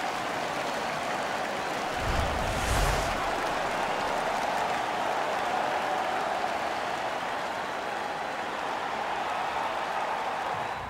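An arena crowd in NHL 15 cheers and applauds in a sustained loud roar that swells briefly near the start and then holds steady, with no talking over it.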